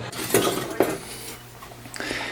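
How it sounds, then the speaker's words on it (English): Round bread being flipped in a frying pan gives a couple of metal scraping clinks of a utensil against the pan, followed by quieter rattling and a soft tap toward the end, close and alone with no talk. "Okay, I'm going to go ahead and flip the bread."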